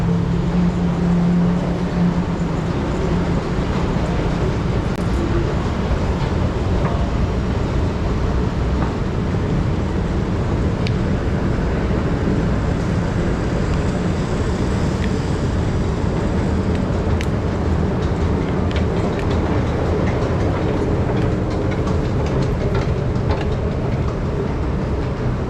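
An underground MRT train in Malaysia runs between Ampang Park and the next station, giving a loud, continuous rumble with faint rail clatter throughout, close and unbroken, with no voices.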